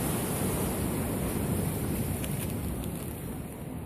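Ocean waves wash onto the shore at Tel Aviv beach as a continuous, broad rushing roar mixed with wind buffeting the microphone, steady and fairly loud with no talk.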